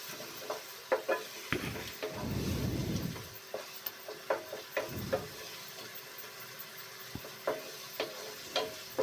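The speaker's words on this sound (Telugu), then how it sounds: "కొంచెం ఉప్పు వేసుకుంటే బాగా ఫ్రై అయిపోతాయండి ఉల్లిపాయలు" Onions frying with salt in a pan for a fish curry sizzle under frequent stirring scrapes and taps, with a louder burst of sizzling partway through and irregular clinks throughout.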